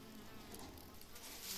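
Bees buzz around homemade hive boxes in a rural apiary. The hum is faint, steady and continuous, with no speech.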